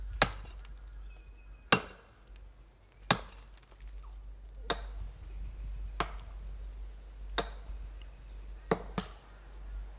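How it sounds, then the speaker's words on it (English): Aboriginal women chop down hollow trees with sharp, isolated strikes on the trunk, about eight blows spaced a second or so apart, each crisp and ringing, over a steady low outdoor hum with no talking. "the women do not take long in chopping them down"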